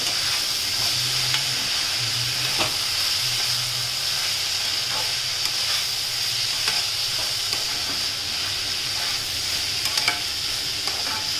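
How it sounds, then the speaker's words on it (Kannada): Spring roll vegetable filling frying and being stirred in a pan, a steady bright sizzle throughout with intermittent soft scraping strokes of the utensil, close and continuous with no talking. "ಇದೆಲ್ಲ ಹಾಕಿಬಿಟ್ಟು ಚೆನ್ನಾಗಿ ಮಿಕ್ಸ್ ಮಾಡಿಬಿಡಿ"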